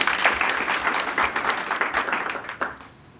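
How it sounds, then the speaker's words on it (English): An audience at a health programme event applauds, a dense burst of many hands clapping at moderate distance that carries on steadily and then tapers off into quiet. "let's clap for it."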